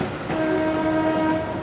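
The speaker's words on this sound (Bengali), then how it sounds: "দেখতে পাচ্ছি ডাউন ব্যান্ডেল হাওড়া লোকাল আসছে" A down Bandel–Howrah local train approaches near Howrah station, its horn blaring as a loud, steady, sustained tone over the rumble of the moving train.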